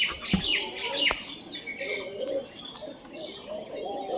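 Wild pigeons at a nest with newly hatched chicks coo in soft, repeated bursts amid light chirps and a couple of sharp clicks, moderately near over steady background hiss.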